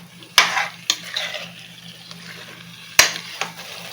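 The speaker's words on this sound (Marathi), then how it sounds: "म्हणून मटण चांगलं असं परतून घ्यायचं." Mutton being sautéed in oil in a pot over medium flame for biryani, with a soft continuous sizzle broken by sharp scraping stirs of a spoon against the pot, close up.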